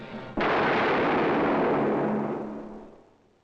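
A single loud gunshot from a 1962 film cracks sharply after a short quiet lead-in. It is followed by a long rumbling reverberation that slowly fades, with no voices heard.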